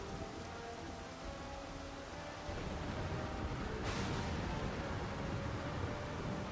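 A storm at sea in Final Fantasy XIV: dense, steady rain pouring over a low rumble of wind and waves, swelling louder partway through with a brief burst of hissing spray.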